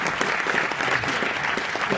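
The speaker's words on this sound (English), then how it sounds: "a big round of applause for" An audience at a mayoral speech and award event for homeless veterans' kits claps in a dense, steady burst of applause that fills the whole moment, with no voices over it.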